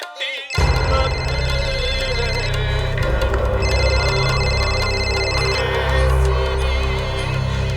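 A telephone ringtone during a call in a crime drama, a loud, repeating electronic melody that starts abruptly and plays continuously for several seconds.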